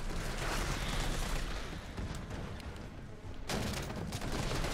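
Dense rapid gunfire from Resident Evil 3 Remake, a continuous loud barrage of shots with a brief dip near the end before firing resumes.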